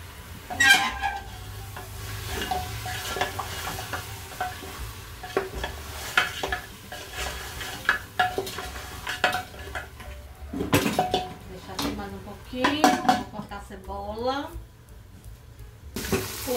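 Onion frying in a pot alongside beef ribs for a home dinner, heard as a soft sizzle broken by clattering pots, pans and utensils being stirred, with occasional louder knocks close by.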